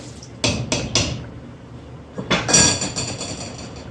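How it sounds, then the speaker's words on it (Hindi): Rice is tipped into boiling water in a cooking pot for vegetable pulao: a few sharp clinks, then a brief rushing patter of grains hitting the water, heard up close. "चावल डालेंगे।"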